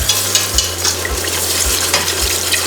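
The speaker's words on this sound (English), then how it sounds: "we can start to add our full cream milk straight into the pan and give it a good whisk as you're adding the milk" Milk being whisked into butter in a pan for pumpkin and bacon mac and cheese, a close, steady sizzle under quick scraping whisk strokes with faint low thumps recurring about every half second.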